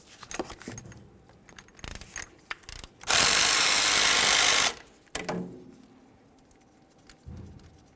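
Ratchet loosening 10mm brake caliper slider bolts on a 2002-2005 Ford Explorer, with loud close clicking bursts, metallic clanks and a sustained rapid ratcheting stretch in the middle.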